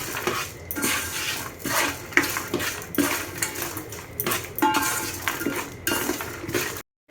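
Cashews and urad dal stirred in a pan with a metal spoon, repeated scraping and clinking strokes in an uneven rhythm over a light sizzle.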